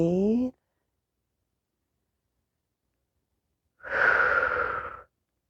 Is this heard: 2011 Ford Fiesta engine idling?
no